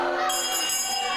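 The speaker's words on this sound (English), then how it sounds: "The bell has sounded." A wrestling ring bell at a staged wrestling event rings out with a sustained metallic tone that decays slowly, with no talk over it.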